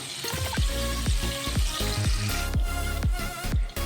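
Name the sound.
paneer lightly frying in oil over medium-low flame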